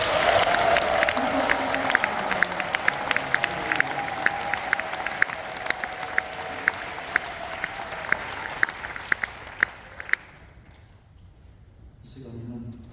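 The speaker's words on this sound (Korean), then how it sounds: "우리 김동기 총회장님 축하 박수를 아주 뜨겁게 한번 해주시기 바랍니다" Hall audience warmly applauds the newly installed general assembly president at an officers' inauguration, loud steady clapping with sharp individual claps standing out over a sustained tone, then dying away near the end as a voice begins.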